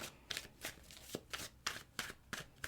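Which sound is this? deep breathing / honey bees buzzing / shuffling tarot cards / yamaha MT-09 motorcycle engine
shuffling tarot cards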